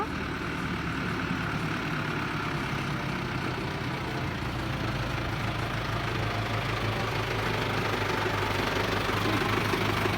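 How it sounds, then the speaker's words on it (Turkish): A farm tractor engine runs continuously and loudly as it is driven through a village, with a steady low knocking drone that holds constant the whole time with no talk over it. "Asel Hanım traktör sürüyor."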